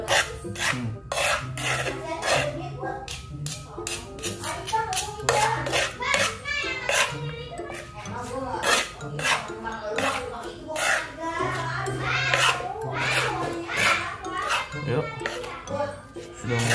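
Young mango pickle mixed with shrimp-paste sambal is stirred in a bowl, giving steady, rhythmic scraping and rubbing close by while family members and children chatter in the background.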